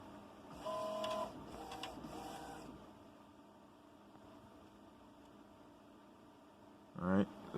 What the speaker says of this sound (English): Alright, so it's drying the sheet and getting itself ready to print.